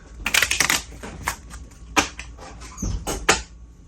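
Cards for the Pandemic tabletop board game being shuffled by hand, a close run of quick riffling bursts with short pauses between them, crisp and papery, with no voices over it.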